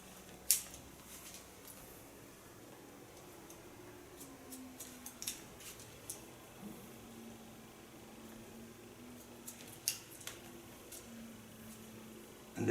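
Scissors cutting long hair into a shoulder-length bob in a salon, a series of faint, quick snips scattered irregularly over a low hum, with no talking.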